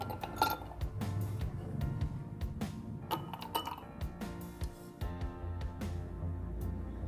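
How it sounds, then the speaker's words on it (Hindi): Ice cubes drop into a glass while an Oreo milkshake is prepared, giving a series of sharp, bright clinks and rattles at an uneven rhythm, close and fairly quiet, with no talking. "आइस क्यूब्स डालेंगे।"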